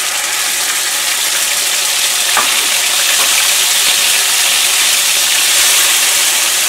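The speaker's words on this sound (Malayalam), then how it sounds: "ഈ ചൂടായ ഓയിലിലേക്ക് 1 1/4 ടേബിൾ സ്പൂൺ ജിഞ്ചർ ഗാർലിക് പേസ്റ്റാണ് ചേർക്കുന്നത്." Ginger garlic paste dropped into hot oil sizzles with a loud, dense, steady hiss and a few faint crackles, close up with no speech.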